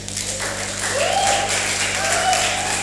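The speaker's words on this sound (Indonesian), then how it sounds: "Teman-teman tepuk tangan dong sekali lagi dong." Audience applause at a talk show, a steady wash of clapping with faint voices rising over it, over a constant low hum.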